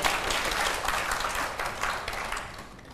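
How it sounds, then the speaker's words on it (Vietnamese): An audience at a Vietnamese comedy matchmaking show claps in a dense, steady round of applause that fades slightly toward the end. "mọi người có thích thì vỗ tay mà ủng hộ lên nào"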